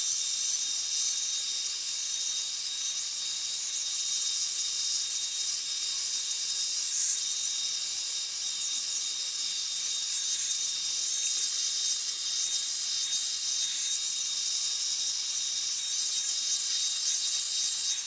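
A Revlon-style one-step hair dryer brush runs on its high setting, giving a steady, bright airy hiss that continues unbroken and evenly loud, with no voices.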